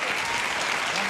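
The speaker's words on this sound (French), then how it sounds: "Mais pourquoi vous applaudissez?" A studio audience at a French late-night comedy show applauds steadily, a dense, loud burst of clapping that fills the whole short moment.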